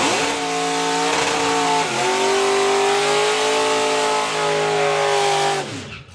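A drag racing car at a nostalgia drag racing event revs hard and accelerates, its loud engine roar climbing and shifting pitch for about six seconds before dropping away, with no talk.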